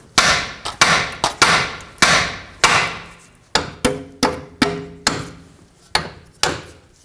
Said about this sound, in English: Now tap the side of the knuckle here. That should pop the tie rod free from the knuckle.